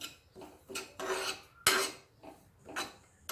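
Ajwain and kalonji seeds are stirred in a hot pan for mango pickle, with a scraping, rasping spoon making repeated strokes at a steady rhythm, close up and fairly quiet with no talking.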